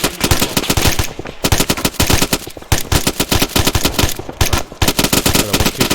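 Sustained machine-gun fire in the Arma 3 military video game, with loud, rapid automatic bursts separated by brief pauses, close and dense throughout.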